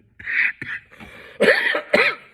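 A few harsh coughs, close and fairly loud, in two or three bursts with short pauses between them.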